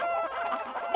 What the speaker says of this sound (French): Écoutez les poules, c'est un avertissement officiel